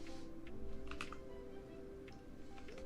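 Quiet, close typing on a computer keyboard while coding a Tetris game in Godot, with bursts of soft key clicks over a low background hum.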